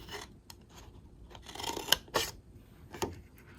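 Scissors snip cardstock for a handmade birthday card in a few short, close cuts, with light rubbing of paper between them.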